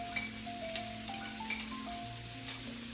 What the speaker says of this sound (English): we're gonna go ahead and add in all of our minced vegetables